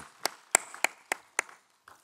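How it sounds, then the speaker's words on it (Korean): Slow, isolated claps during a Wednesday church worship service, about six separate hand claps spaced evenly apart, sharp and close with a little room echo, fading out at the end. "우리 하나님 아버지께 영광의 박수를 올려드립니다"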